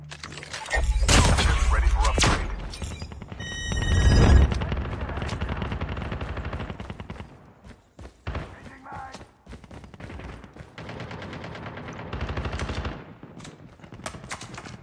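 Rapid automatic hip-fire gunshots from the Call of Duty Mobile battle royale, FR .556 and SKS weapons, cracking in loud sustained bursts and trailing off into scattered shots, with game effects and a player talking over it.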